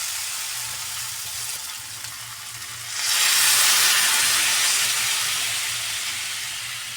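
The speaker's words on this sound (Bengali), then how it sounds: "দেখো জলটা ফুটে উঠেছে" Potatoes in a pan of water on the boil, giving a steady hiss that swells sharply partway through and then holds at a loud, even level with no talk.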